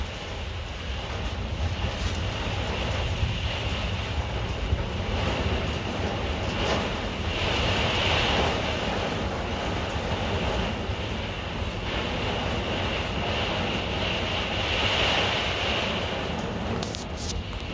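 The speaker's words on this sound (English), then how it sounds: "That was kind of scary, that gust." Strong wind gusts buffet a fifth-wheel trailer during a severe thunderstorm, a steady loud roar that swells and surges in waves throughout, with no speech.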